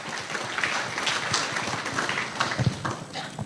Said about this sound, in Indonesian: Beri tepuk tangan dulu ini.